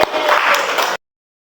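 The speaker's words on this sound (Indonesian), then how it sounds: "Tepuk tangan buat Arka." A classroom of children claps for a classmate named Arka during a lesson, a short, close burst of applause lasting about a second before cutting off abruptly into silence.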